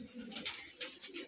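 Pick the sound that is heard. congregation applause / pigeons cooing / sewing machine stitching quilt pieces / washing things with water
pigeons cooing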